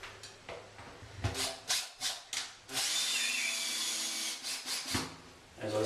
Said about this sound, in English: Trusty cordless drill.